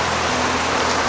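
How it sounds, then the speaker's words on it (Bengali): Heavy rain pours steadily in a village setting, a dense, even hiss of rainfall with a low rumble underneath, continuous and fairly loud throughout the short stretch with no talking. "প্রচুর বৃষ্টি হইতেছে হঠাৎ করে কালকে রাত থেকে।"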